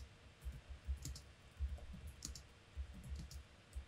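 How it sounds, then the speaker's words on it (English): Quiet clicking keystrokes on a computer keyboard during a typing game, irregular bursts of light taps with short pauses between, faint and close with no talking. "So we can just type here,"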